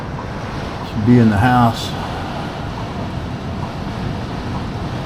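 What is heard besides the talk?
strong wind during a tornado warning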